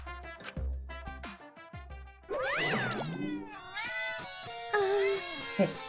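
A cat meows in a video game, a drawn-out wavering yowl following some tonal game sounds, then further shorter meows, fairly close and clear with no speech over it.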